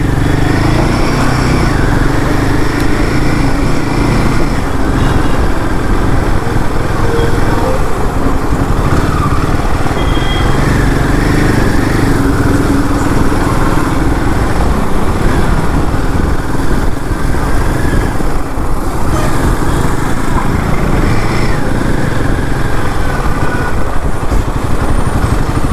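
New 2025 Royal Enfield Himalayan 450 motorcycle ridden slowly through city traffic, a steady engine drone with wind and street noise throughout, close and fairly loud.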